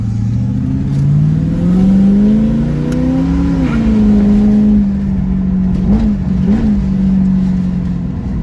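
A Ford Mustang with a misfire problem pulls in second gear, its engine note rising loud and close as it revs up, easing off briefly, then climbing again, all heard from inside the car.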